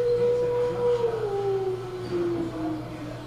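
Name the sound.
person imitating the sound of a whale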